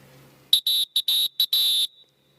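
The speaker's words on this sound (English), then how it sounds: "And there's a whistle when it's foul." Loud, shrill blasts from a pesäpallo umpire's whistle signal a foul, six in all, alternating short and long in a quick rhythm and heard up close with nothing over them.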